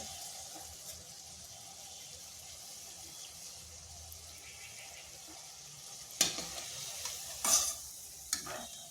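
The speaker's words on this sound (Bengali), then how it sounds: "এইভাবে আমি সবগুলো ভেজে নিচ্ছি।" Egg pakoras fry in oil in a kadai, a soft steady sizzle that carries on alone, with a few sharper clinks and scrapes of handling toward the end.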